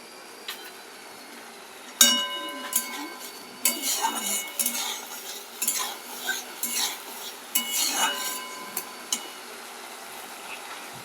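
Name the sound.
stirring food in a pan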